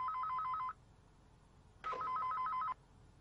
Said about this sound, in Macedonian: Каде сте сите кога звони телефонот?